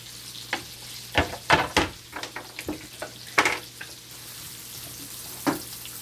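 Carrots and onion cook in a pan with a soft, steady sizzle, broken by a series of scraping stirs and clinks of a utensil.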